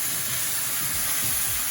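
Beef stock and red wine hit a hot pan, giving a steady close hiss and sizzle with faint low bubbling, no voices.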